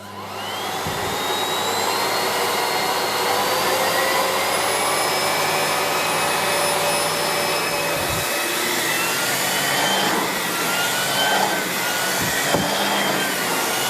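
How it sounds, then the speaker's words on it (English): Miele S8730 HEPA canister vacuum cleaner with turbo brush running on fairly high power over living room carpet, a loud, steady whine and rushing airflow with brief thumps as the head moves, no talk. "we will start the machine up and go on to fairly high power"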